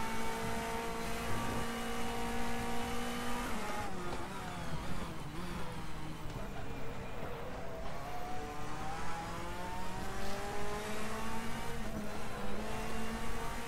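A DTM race car engine in the RaceRoom Experience racing game drones loudly and continuously for the whole stretch, its pitch rising through the gears, dropping at shifts and climbing again, with no talking over it.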